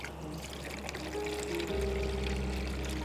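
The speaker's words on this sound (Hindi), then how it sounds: "थोड़ा सा 2-3 ग्लास जितना पानी डाल दो" Water from a couple of glasses is poured into a commercial sugarcane juicer machine to rinse it out, a steady splashing trickle over a low machine hum that deepens partway through.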